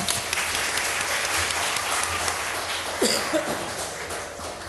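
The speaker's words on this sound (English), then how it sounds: "Let's give her another round of applause." An audience at a youth council swearing-in ceremony claps for a graduate, a moderate, steady round of applause with a cough breaking through partway, heard from within the room.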